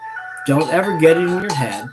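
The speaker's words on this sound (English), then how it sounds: "Excuse the phone calls." An incoming call sets off a phone's melodic electronic ringtone, clear on its own at first, then continuing beneath a person talking.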